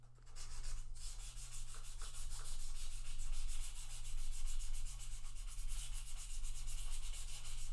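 The tops of guitar frets are rubbed with 1000 grit sandpaper during a partial fret dressing. Light, rapid back-and-forth strokes scratch steadily up close, with a constant low hum beneath and no talking.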